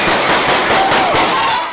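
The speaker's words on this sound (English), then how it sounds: "That's when the shooting broke out." Gunfire breaks out at a peace rally in a Florida park, a rapid series of sharp, loud cracks in quick succession over under two seconds.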